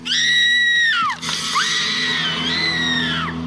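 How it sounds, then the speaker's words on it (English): A woman screams in the horror film Blood Salvage, two long, loud, piercing cries close up with a brief break between them over a low rumbling background. "despite having a glorious scream"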